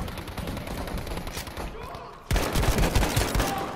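Gun firing in Battlefield 5 team deathmatch, rapid bursts of automatic fire with a sharp louder onset midway, sounding close, with someone talking over the shooting.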